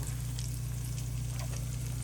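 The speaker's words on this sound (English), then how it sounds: "So I'll be frying chicken for the next hour probably." Chicken drumettes sizzle gently in hot oil, a soft, continuous crackle under a low steady hum.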